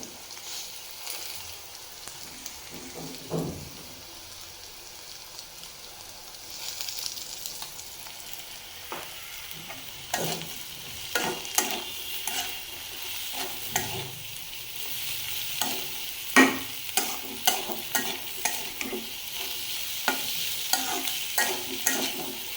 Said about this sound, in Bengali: নুডলস রান্না হচ্ছে।